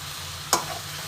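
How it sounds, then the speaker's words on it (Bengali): Mutton being stirred with spices in a wok: a single sharp scrape of stirring over a soft, steady sizzle. "মশলার সাথে মাংসটা আমি একটু কষে নেবো হালকা করে"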